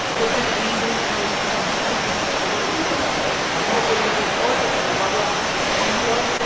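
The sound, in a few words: apple crates plunging into water flume at sorting line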